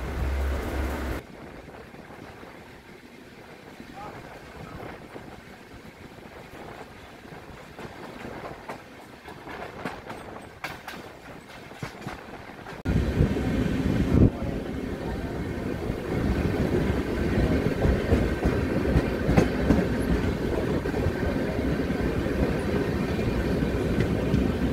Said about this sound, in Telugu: ఇది ఒక సూపర్ ఫాస్ట్ కేటగిరీ ఎక్స్ప్రెస్ అండి